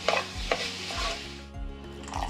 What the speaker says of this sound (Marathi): हे मिश्रण आपलं घट्ट होईपर्यंत आता परतून घ्यायचं आपल्याला